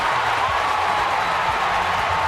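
A baseball crowd at a Giants home game roars with cheers and applause after a go-ahead rally, a dense, continuous wash of noise at steady volume.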